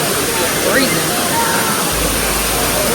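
Steady roar of a waterfall, a constant broadband rush of falling water close by, with brief voices and splashing faintly over it.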